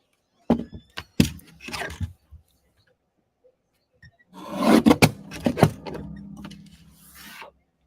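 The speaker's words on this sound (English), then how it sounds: "I'm going to trim this up just a tiny bit." A paper card is trimmed with sharp rasping cuts in two bursts: a few quick strokes, a pause, then a longer, busier run of close scraping cuts.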